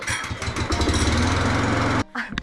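A lawn mower engine cranks and catches, running with a loud, steady mechanical rumble for about two seconds before abruptly cutting out into a brief, quieter sputter.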